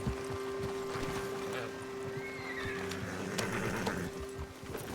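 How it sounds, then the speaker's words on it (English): A horse in the Red Dead Redemption 2 video game gives a whinny while its hooves clip-clop in a quiet outdoor scene, with a steady hum and scattered knocks under the moderate, fairly close sounds. "Got a problem with that horse?"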